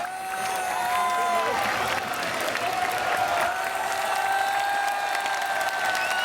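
A crowd at a European Rubik's Cube championship applauds and cheers for a young 2x2 winner, with sustained clapping, whoops and scattered shouts that fill the hall.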